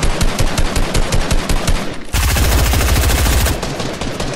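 Loud, rapid heavy gunfire rattles in the video game Fortnite, one continuous automatic burst that grows heavier and deeper partway through, with no voices.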